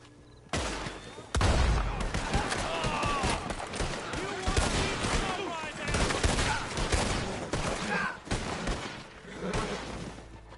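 Video game gunfire in a multiplayer shootout, rapid bursts and crackling volleys going off repeatedly at close range, loud and sustained, with players' voices mixed in.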